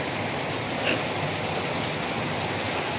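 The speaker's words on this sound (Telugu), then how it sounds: "మా ఊళ్ళో అయితే వర్షం బాగా వచ్చేస్తుందండి చాలా బాగా ఎక్కువగా కురిసేస్తుంది" Heavy rain falls steadily, a dense, even hiss of downpour that fills the whole moment without pause.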